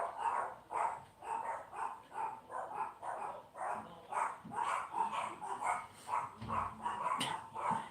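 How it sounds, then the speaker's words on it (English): Several dogs barking excitedly indoors as a delivery arrives, a rapid, steady run of yaps and barks, somewhat distant and fairly quiet, with no talking. "My dogs are going nuts because my delivery just showed up."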